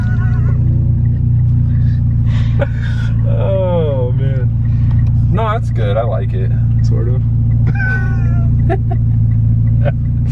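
A deep, steady idle from a Mitsubishi Lancer Evolution X MR with straight-piped exhaust rumbles throughout with a low, throaty drone, while people talk over it.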